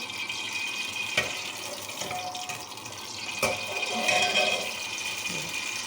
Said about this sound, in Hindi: ये देख रहे तेल गर्म होने की आवाज़ आ रही है